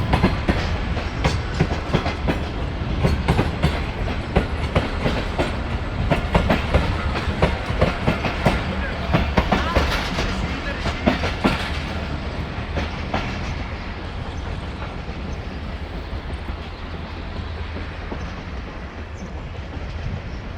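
The Tezgam train pulls out of Bahawalpur railway station bound for Rawalpindi, with continuous rumbling and clickety-clack of wheels over rail joints, close by and gradually easing as it moves away.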